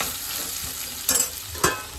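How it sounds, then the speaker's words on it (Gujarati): Masala fries in hot oil with a constant close sizzle, and two louder bursts of crackling come as the spices are stirred. "ફટાફટ તેલમાં મસાલો તળી લઈશું"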